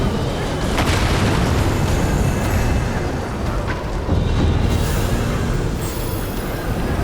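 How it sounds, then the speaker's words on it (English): A sustained, loud, rumbling explosion roars from the Dragon's Dogma 2 video game, a dense, heavy blast that carries on for several seconds with a few sharper cracks within it. "that thing's gonna explode"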